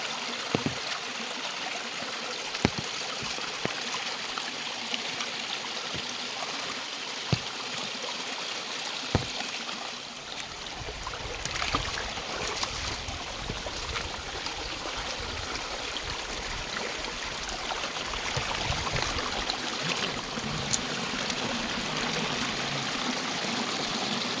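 A hot-water stream in a monsoon forest flows with a constant rushing, trickling wash, close and unbroken, with a few sharp clicks early on and the water growing fuller and louder partway through.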